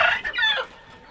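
A chicken gives a short, sharp, close cluck, a quick rising squawk lasting under a second, from a flock of laying hens in a poultry pen in Al-Ahsa, with no talking.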